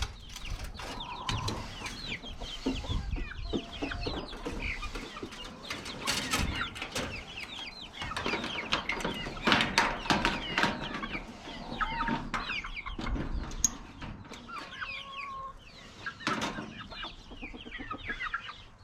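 Chickens clucking in a coop at night, a busy chorus of soft clucks and murmurs from several birds at close range, continuous and moderately quiet with no talk.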